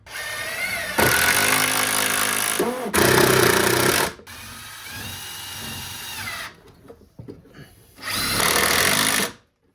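A power drill whines loudly in several bursts of a second or more, boring through a 2x4 while mounting a retractable hose reel, with short pauses between runs and a quieter stretch midway.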